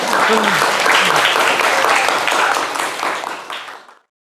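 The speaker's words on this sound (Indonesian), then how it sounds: "Berikan tepuk tangan untuk kita semua." Classroom of schoolchildren giving a round of applause, a loud, dense, continuous patter of clapping with some voices mixed in, fading out over the last second.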